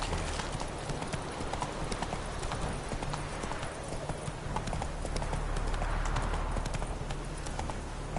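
Roach, Geralt's horse in The Witcher 3, gallops in a fast, steady clip-clop of hooves, continuous and fairly close for several seconds over faint game ambience.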